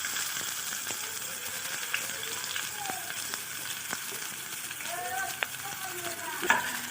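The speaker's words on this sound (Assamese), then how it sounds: "তেলটো আমাৰ গৰম হৈ গল এতিয়া মই ইয়াতে পিয়াজখিনি দিম" Onions frying in hot oil in a wok for a jackfruit curry, a steady moderate sizzle with occasional clicks and light scraping as they are stirred, no speech.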